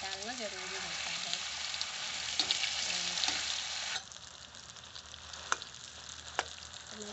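Potatoes frying in a pan with asafoetida, a continuous close sizzle with occasional stirring scrapes and clicks, softer in the second half, with a faint voice briefly in the background.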